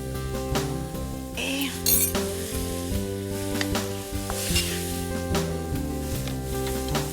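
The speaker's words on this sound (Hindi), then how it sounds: "अब इसे एक दूसरे से अच्छे से मिला के अच्छी तरह से भून लीजिए।" Vegetables coated with flour fry in a pan as they are stirred, giving a steady sizzle with occasional utensil clinks and scrapes, no talk, over continuous background music.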